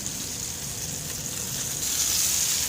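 A chicken patty fries in a pan with a steady, close sizzle that holds at an even level throughout, with no talking.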